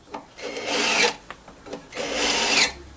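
A countersink tool chamfers and deburrs the head bolt holes in an old cast iron MOPAR 383 engine block, giving two sustained raspy grinding strokes with short scrapes between, close and clear with no talk.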